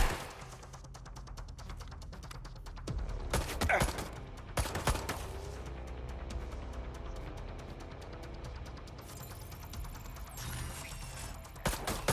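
A suspect opening fire in the video game Watch Dogs Legion, a couple of sharp loud gunshot bursts followed by lingering mechanical game ambience over about twelve seconds.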